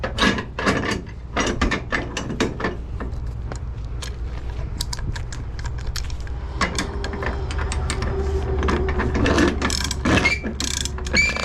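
Ratchet strap cinched down over refractory bricks, a series of sharp ratcheting clicks in uneven bursts, close and clear, with mechanical rattles between pulls and a quieter stretch in the middle.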